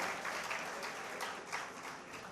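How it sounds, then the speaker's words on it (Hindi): Steady, dense applause from a crowd, a continuous wash of clapping without pauses, moderately distant. "जोरदार तालियों से आप मंच का स्वागत कीजिएगा"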